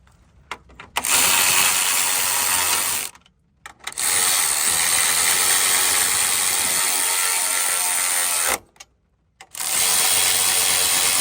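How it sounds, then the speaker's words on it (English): A speed ratchet spins to tighten a strut brace bolt on a 2019 Honda Accord, giving a loud, close, continuous whirring rattle in long runs broken by two brief pauses. "Where's my speed ratchet? All right, let's reinstall that again."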